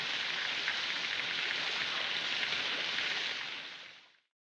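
Steady rain pours from a scene in a Japanese film, a dense continuous hiss that holds evenly, then fades away quickly near the end. No voices.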